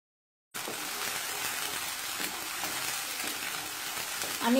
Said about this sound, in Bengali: হাফ কাপ সরিষার তেল, তেলটা গরম হয়ে গিয়েছে। এখন আমি দিয়ে দিব ব্লেন্ড করা 1 বাটি পেঁয়াজ বাটা।